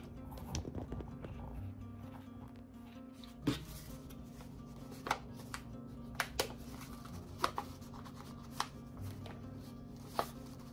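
Potting mix being packed into seedling cups for indoor seed starting, heard as scattered soft thuds and scrapes with a few sharper taps over a low steady background hum, close and fairly quiet.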